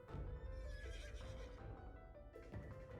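A horse in the video game Royal Alchemist neighs loudly and whinnies several times over continuous clip-clopping hooves, with a dense rumbling game soundtrack underneath throughout.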